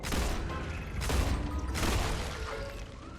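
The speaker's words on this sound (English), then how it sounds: "The explosions are very extreme." Explosions go off in the StarRupture survival video game, with three or four heavy, rumbling blasts in quick succession over a dense, noisy background.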